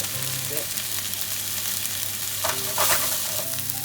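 Konjac pieces scored with cuts sizzle steadily as they fry in a pan over medium heat, a continuous close hiss with a few brief clinks and scrapes, no talking.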